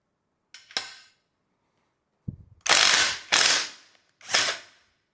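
A Bosch GDS 18V-350 cordless impact wrench with its ABR function active fires in short bursts: a brief burst, a pause, then three loud hammering rattles close by with sharp starts and stops, and no talk.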